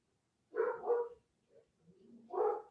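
Dogs in the background bark in two short bursts: a pair of quick barks, a soft whine, then another bark, at moderate distance with no talking.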